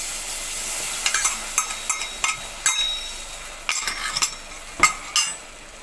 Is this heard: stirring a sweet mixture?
yes